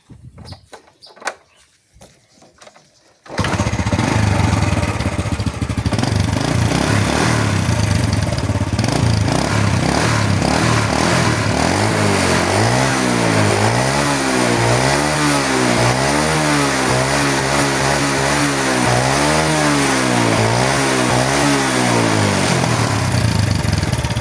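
An original, never-opened carbureted motorcycle engine starts up and runs loud and close, idling steadily before revving up and down in repeated rising and falling swells, with no talk over it.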